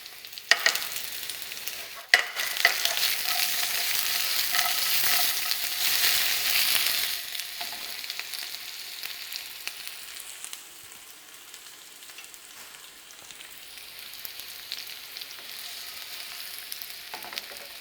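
Raw potatoes sauté in a pan with a steady sizzle and frying crackle, stirred and tossed at intervals, loudest early on and then settling to a quieter simmer, with no talking.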